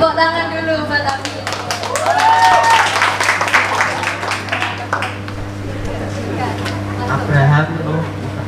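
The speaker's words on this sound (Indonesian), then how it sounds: "Tepuk tangan dulu buat Abi." Students at a Christmas event in a restaurant clap for Abi, a sustained round of applause with voices and chatter mixed in over a steady low hum.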